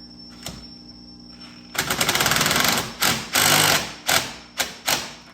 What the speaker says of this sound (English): And I'm using an impact here just to make it easier.